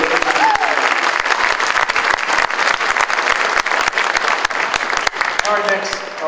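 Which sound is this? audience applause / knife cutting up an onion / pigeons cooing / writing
audience applause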